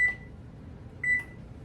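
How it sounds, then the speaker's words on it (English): A kitchen timer gives two short, high electronic beeps about a second apart in an otherwise quiet room. "let me hit the timer"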